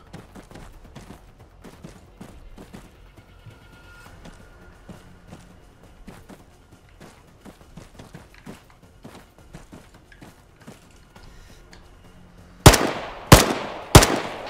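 In ArmA 3, gunfire rattles as a run of quick, moderate shots, followed by three loud, sharp blasts close together at the end.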